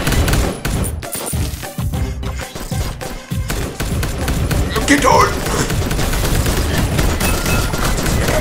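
Rapid gunfire and heavy impacts from the Jydge video game fill the scene in loud bursts, with a voice speaking briefly over the shooting.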